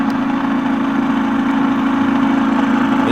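A generator engine runs steadily at raised RPM with a constant droning hum, loud and close, with no talking over it.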